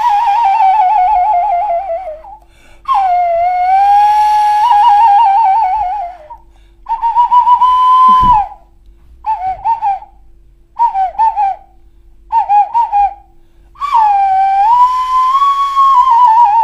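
Chirping, warbling bird calls imitated on a handmade musical instrument, played in loud separate phrases with short silent gaps, some long and sliding, others quick and clipped, with no talk.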